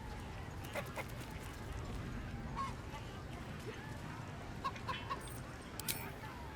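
Chickens cluck and squawk in scattered short calls over a steady ambient bed during a chicken chase in Baldur's Gate 3, moderately faint and fairly distant.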